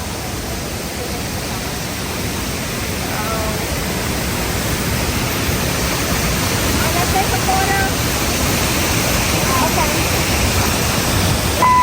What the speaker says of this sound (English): So we're getting closer to the falls. This is the largest falls in the Balkans.